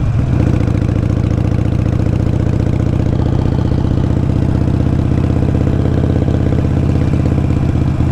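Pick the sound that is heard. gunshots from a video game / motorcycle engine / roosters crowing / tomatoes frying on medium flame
motorcycle engine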